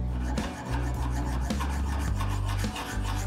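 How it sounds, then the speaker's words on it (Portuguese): A hand file rasps steadily at soft metal around the steering lock bearing of a Kombi, with repeated scraping strokes close by and no talk. "Então a gente passa a lima e ele vai gastando."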